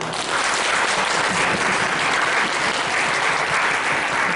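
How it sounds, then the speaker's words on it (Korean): Church congregation claps in welcome for visitors during an Easter service, a dense, loud and continuous round of applause from many hands filling the whole stretch without any talking. "환영의 박수."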